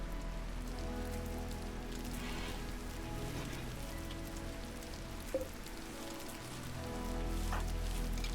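Steady rain hisses across surfaces in RimWorld, an even wash of drops with a low rumble beneath and a faint isolated tap near the middle, no voices.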